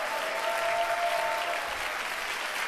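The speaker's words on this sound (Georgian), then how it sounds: "აპლოდისმენტები" An audience applauds four finalists called to the stage at the final of a Georgian talent show season two, with dense, steady clapping that fills the whole moment.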